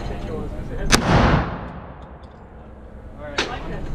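A shotgun fires Federal 36 gram slugs outdoors, two loud blasts about two and a half seconds apart, the first with a long booming rumble.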